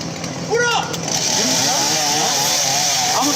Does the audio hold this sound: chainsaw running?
yes